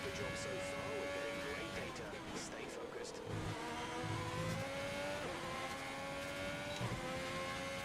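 A Ferrari-powered Formula 1 car engine in the F1 2020 video game revs and whines steadily through gear changes, sustained and loud, with synthetic game-like tone and no voices.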